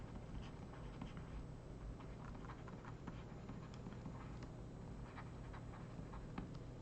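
Quiet tapping and scratching of writing on a board in a ship-resistance lecture hall, a run of soft, irregular strokes close by with no talk.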